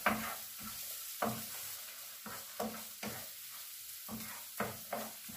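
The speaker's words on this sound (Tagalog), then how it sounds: "Ilagay ko na ang sibuyas." Onion frying in a pan for spaghetti with mussels, a steady close sizzle broken by repeated sharp scrapes and clacks of stirring at an uneven rhythm, with no talking.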